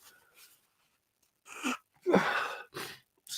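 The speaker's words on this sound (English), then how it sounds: "Oh, I'm going to sneeze." A single sneeze comes after a short quiet stretch, preceded by a faint breathy intake and followed by a couple of softer breaths, all close and fairly quiet.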